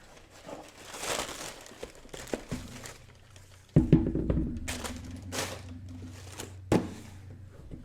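Paper rustles and crinkles close by as a sneaker box for Air Jordan 4 "Fear" shoes is unwrapped, with soft crumpling early and then a few louder thumps and crackles of handling.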